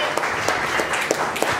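Guests at an engagement function clap together in a steady, loud burst of applause filling the whole moment, with individual sharp claps standing out.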